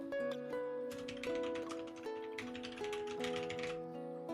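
Rapid keystrokes on a computer keyboard click in quick irregular bursts, layered over a sustained melodic tonal background, with no voices.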